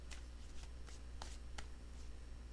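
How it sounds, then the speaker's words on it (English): Quiet riffling of tarot cards being shuffled, several short papery bursts in quick succession. "Last shuffle."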